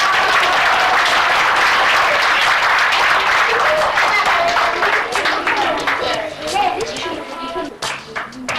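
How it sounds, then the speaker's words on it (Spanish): An audience at a community school event bursts into loud, dense applause that holds steady, then thins and tapers off as scattered claps and crowd voices come through. "Un aplauso fuerte para"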